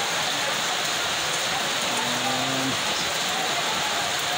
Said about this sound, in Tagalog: Yan, umuulan pa, oh.